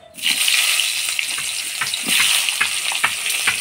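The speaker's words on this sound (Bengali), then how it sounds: "প্রথমে আমি বেগুনগুলা ভাজি নেব" Eggplant fries in hot oil in a pan for a fish curry, with a loud steady sizzle that starts abruptly and carries a few soft clinks and stirs underneath.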